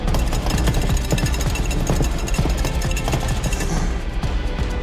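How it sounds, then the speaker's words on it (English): Eggs are whisked by hand at great speed in a cooking-competition kitchen, a loud, close, continuous rapid clatter of wire against bowl with no let-up. "All I can hear is Jonathan's whisk going 10 to the dozen."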